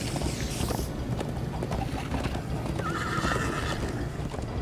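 A horse in Minecraft: Story Mode whinnies loudly over steady galloping hoofbeats, with a busy rushing background throughout.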